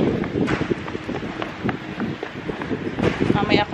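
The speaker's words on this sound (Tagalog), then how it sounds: "So windy." Strong wind outdoors buffets the microphone in heavy, uneven low rumbling gusts while people talk close by throughout.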